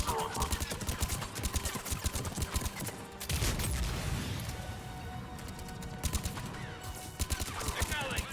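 A sci-fi firefight in Mass Effect 3 rattles with rapid bursts of automatic gunfire, dense repeated shots broken by a heavier blast, while voices talk over the battle.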